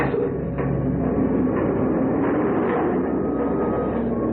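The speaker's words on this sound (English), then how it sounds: "At last, the train started." A train pulls away from a station platform as a radio drama sound effect, a steady low rumble and rolling clatter, muffled and continuous, with no voices.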